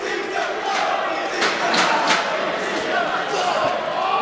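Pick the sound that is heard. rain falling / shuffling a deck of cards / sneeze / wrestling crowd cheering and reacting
wrestling crowd cheering and reacting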